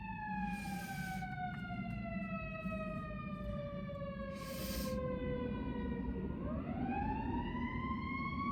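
An emergency vehicle siren wails past with a falling pitch, then rises again, loud and sustained over steady background noise.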